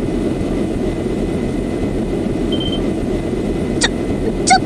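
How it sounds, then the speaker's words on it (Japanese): A steady, loud airship engine drone from the game Trails in the Sky SC, a dense continuous hum that fills the whole clip, with a few brief sharp clicks near the end. "飛行船のエンジン音じゃねえか"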